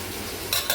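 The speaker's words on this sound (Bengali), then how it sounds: "আমার এদিকে এই যে মাছের ঝোল রান্না চলছে" Fish curry (machher jhol) cooking in a pan, with fried fish pieces and shrimp paste, gives a steady close sizzle, briefly louder in two short bursts near the end, as if stirred.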